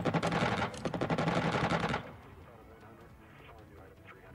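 Rapid bursts of game gunfire fire at an aircraft in the strategy game Xenonauts, a loud rattling stream for about two seconds that then drops away to faint scattered shots and quieter background sounds.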